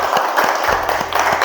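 A classroom of students claps for Sofi, a dense, steady patter of hands lasting throughout, fairly loud and close, with a few sharper individual claps standing out.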